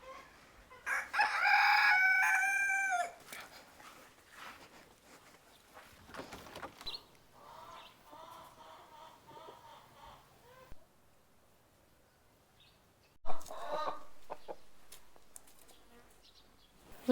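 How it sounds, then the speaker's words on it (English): Chickens and a rooster at a farm in a Polish forest, with a loud crow near the start and scattered clucking, alongside buzzing insects and quiet stretches. "I want to show everyone some of the funky chickens."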